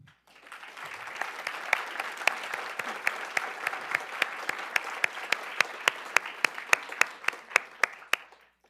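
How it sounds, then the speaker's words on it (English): Audience applause welcoming speakers to the front at a panel on physician-assisted suicide, a dense, steady round of clapping with sharp individual claps standing out, sustained for about eight seconds before tapering off. "Could we please welcome the speakers to the front with a round of applause?"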